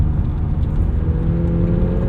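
McLaren 750S engine while driving, a steady low, loud drone with a smooth whir, heard from inside the car with no change in pitch.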